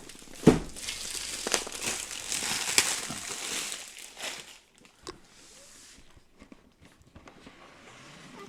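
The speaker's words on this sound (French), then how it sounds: "Allez, on va déballer ça." Core box of the ISS Vanguard board game being unboxed: crinkling plastic and cardboard rustles with a sharp tear near the start, then quieter scattered handling taps and rustles, close by.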